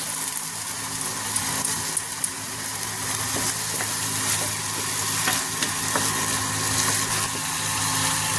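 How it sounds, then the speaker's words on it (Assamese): Ground tomatoes hitting frying onion, garlic and chili in a pan for mushroom masala gravy, giving a constant close sizzle with light stirring scrapes and small clicks throughout. "এতিয়া মই এয়া দি দিছোঁ গ্ৰাইণ্ড কৰা বিলাহীখিনি"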